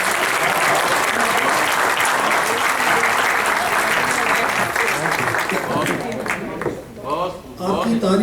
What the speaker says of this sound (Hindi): आपकी तालियों से आपकी पसंदीदगी का पता चल रहा है।